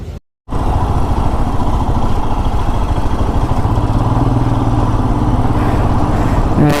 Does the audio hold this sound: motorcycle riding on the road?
yes